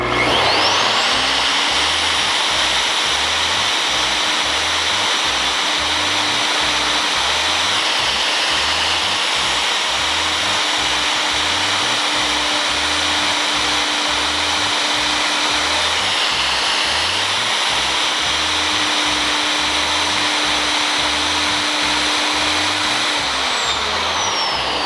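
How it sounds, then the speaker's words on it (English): A WEN RT6033 plunge router with a 3/8 inch straight bit cuts into a 2x6 board, its loud, steady high-pitched motor whine running throughout and dipping briefly under load a couple of times. "Now I've changed out the bit to a 3/8 inch straight bit so we can try out this plunge feature. And we're just going to be cutting into a 2x6."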